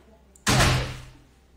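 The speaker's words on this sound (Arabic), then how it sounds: "خلينا نسد الباب" A door is pushed shut indoors with a single solid thud that rings briefly and fades, preceded by a faint click of the handle in an otherwise quiet room.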